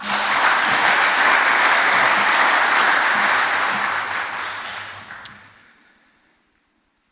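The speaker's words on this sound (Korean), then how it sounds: "목사님 나오실 때 큰 박수로 환영드리겠습니다" A church congregation's big round of applause welcoming a pastor to the pulpit, dense loud clapping that holds steady and then fades out to silence near the end.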